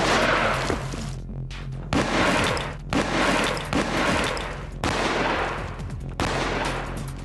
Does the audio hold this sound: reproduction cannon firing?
yes